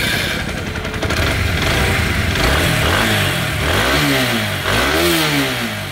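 A repaired TVS Apache RTR 4V motorcycle engine runs up close and loud, idling steadily and then revving in several rising and falling sweeps, with no talk.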